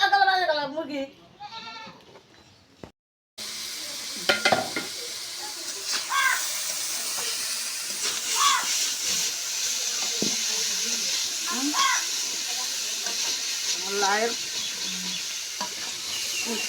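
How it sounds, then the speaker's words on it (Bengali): Pumpkin leaves sizzle and crackle in a hot pan, stirred now and then, while goats bleat intermittently nearby over continuous frying on a rainy day. "কুমড়ার পাতার ভাজা"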